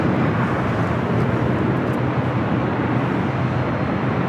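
A WestJet Boeing 737-800 airliner at LAX gives off a steady, loud jet roar, a broad continuous rumble that holds level for the whole stretch with no talk over it.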